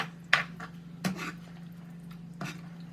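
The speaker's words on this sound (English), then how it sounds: "It's just kind of hard to stir stuff in a skillet" A spoon stirs hamburger gravy with drained ground meat in a skillet, three distinct scraping clanks against the pan spaced over a low steady hum, with soft squishy stirring between them.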